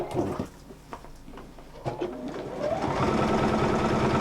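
A sewing machine stitches fabric in a steady whirring run that grows louder and denser toward the end, following a few scattered clicks and pauses at the start.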